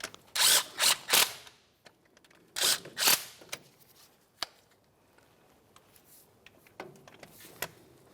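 A power tool runs down the CV axle bolts on the front of a 2004–2015 Nissan Titan in loud, close whirring bursts, each a second or so long, followed by fainter clicks and taps.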